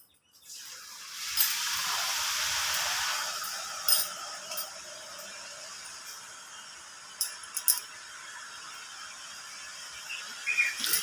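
Karapusa gram-flour dough pressed into hot oil, a loud bright hiss that rises then settles into steady sizzling and crackling, with occasional sharp pops and clinks.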